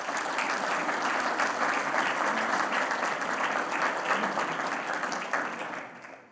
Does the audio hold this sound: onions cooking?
no